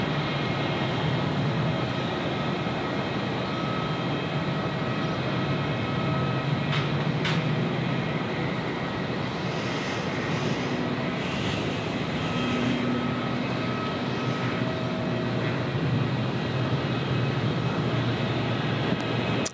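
An Airbus A321 airliner taxis at Gold Coast Airport, a steady loud jet engine roar and whine holding constant throughout, with no speech.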